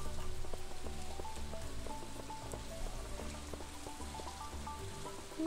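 Steady rain falls in the farming game Stardew Valley during spring, a continuous even patter over soft ambient tones and game music notes, with no talking.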